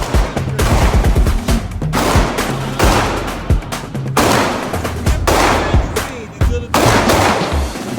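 Rapid volleys of handgun shots ring out at concealed carry shooting practice on a range, loud sharp cracks fired in several quick bursts with brief pauses between strings.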